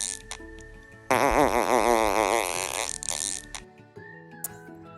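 A voice imitates a fart by blowing with the mouth closed and cheeks pulled back, producing a loud, wobbling buzzy tone lasting about three seconds over a faint musical background.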